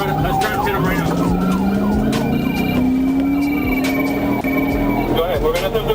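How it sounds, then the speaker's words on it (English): Police car siren wailing loudly during a high-speed chase, its pitch rising and falling over a roaring engine and road noise, close and continuous. "Lights and sirens"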